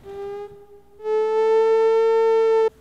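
A Therevox ET-4.1 electronic instrument plays a steady, buzzy oscillator tone. The pitch holds, then jumps upward after a brief dip and sustains loudly before cutting off abruptly.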